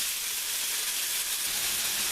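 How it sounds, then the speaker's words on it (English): Hash browns sizzle loudly and continuously in a hot pan, a steady bright hiss close up. "this is kind of loud with him frying the hash browns"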